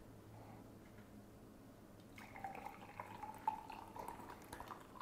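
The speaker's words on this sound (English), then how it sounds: "And then I'll just pour it into this mug." Chamomile tea is poured from a French press into a mug, a quiet pause followed by a soft, continuous trickling stream of liquid that lasts a few seconds, fairly close and faint.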